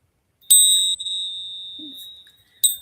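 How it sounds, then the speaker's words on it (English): A small bell struck twice to cleanse a space, a bright sustained ring that slowly decays, with a second strike near the end and a faint murmur between. "I have a bell that I use for sound"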